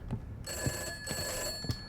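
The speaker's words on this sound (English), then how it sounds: "that phone's ringing." Old-fashioned telephone bell ringing inside a 1950s-set horror video game, trilling in short bursts over a soft game ambience, moderately near.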